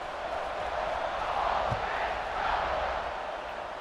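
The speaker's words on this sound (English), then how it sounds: "They're set to kick it off, and this crowd now ready to get behind them." A stadium crowd roars in a steady, broad wash of cheering as teams line up for the kickoff in the College Football 26 video game, with no clear standout voices.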